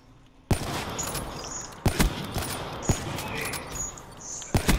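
Repeated gunshots from a Call of Duty match: several sharp, loud bursts spaced a second or so apart over a constant din of game noise, with players talking over the action.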